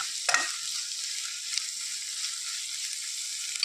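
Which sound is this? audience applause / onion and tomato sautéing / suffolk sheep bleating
onion and tomato sautéing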